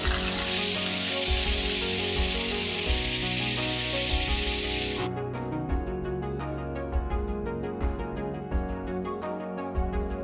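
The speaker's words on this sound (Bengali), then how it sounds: "এবার আমি একটা একটা করে মাছ ভেজে নেব।" Pomfret fish drop into very hot oil in a kadai, setting off a loud, dense sizzle that lasts about five seconds and then cuts off, with music playing underneath throughout.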